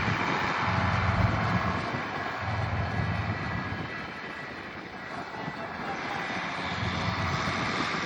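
A farm tractor, running smoothly without its dual wheels, pulls a recently welded plow through a field. Its engine gives a loud, steady, rumbling drone that fills the whole stretch with only slight swells.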